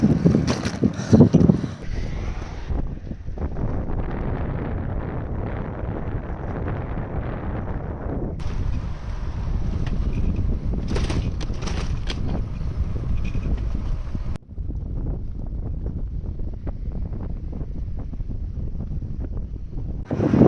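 Strong headwind buffets the microphone of a cyclist riding in Shikoku, Japan: a loud, continuous low rumbling roar with gusty swells and brief dips, lasting throughout.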